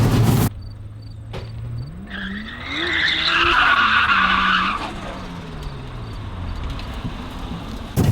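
A car skids and squeals its tires while being driven hard on a track, a rising, wavering screech lasting a few seconds, then trailing off into the engine and ambient noise.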